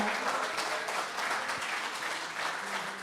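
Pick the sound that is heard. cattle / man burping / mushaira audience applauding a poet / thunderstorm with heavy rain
mushaira audience applauding a poet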